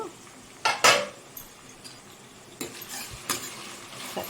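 Onions cooking in a pan for a prawn legs curry, a few loud close clinks and scrapes of a spoon against the pan over a faint low sizzle, with no talking.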